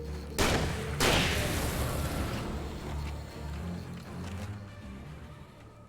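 Shotgun and pistol fire in a video game: two sharp, loud blasts close together near the start, followed by a fading rumble and scattered quieter shots.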